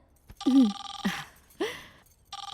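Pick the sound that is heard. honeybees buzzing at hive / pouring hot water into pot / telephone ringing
telephone ringing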